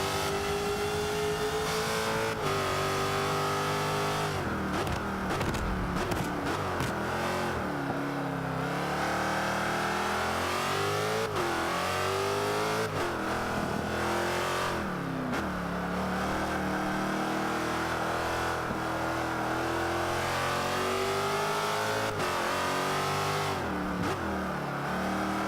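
A Jaguar XKR-S in Forza 5 laps the Catalunya circuit, its engine revving hard and continuously, pitch climbing through each gear and dropping on shifts and braking, loud and close with no talk over it.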